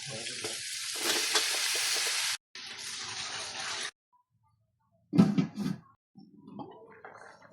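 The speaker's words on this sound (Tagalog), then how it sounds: "Kailangan mag-brown yung baboy para ano. Ilagay natin itong carrots mga idol. Ilagay natin ang patatas mga idol." Pork menudo with carrots and potatoes frying in a pan, loud broadband sizzling in two long bursts, then a sudden cut, followed by a brief clattering stir and quieter sizzle near the end.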